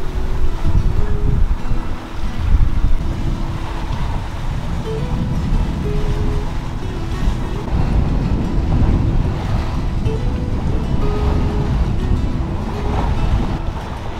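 Steady roar of wind and rushing water around a sailboat under way at about 5 or 6 knots, a continuous broad wash with low rumbling and no talking.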